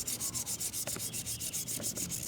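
Rhythmic rubbing of fine 2000-grit sandpaper against a corroded metal car wheel, steady back-and-forth strokes, close and fairly loud, with no talking.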